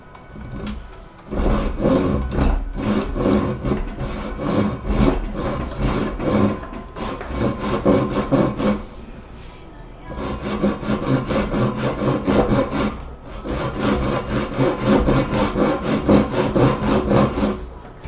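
A wooden block clamped in a table vise is cut with a hand saw, steady rhythmic rasping strokes close and loud, pausing briefly around the middle before the sawing resumes without talk.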